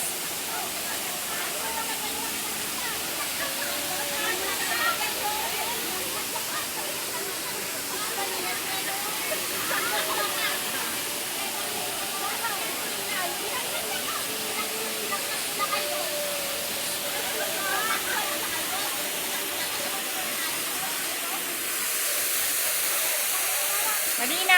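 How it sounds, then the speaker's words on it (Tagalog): A waterfall in Hong Kong roars as a steady broadband rush of falling water, constant and fairly close throughout with no clear breaks. "Waterfalls."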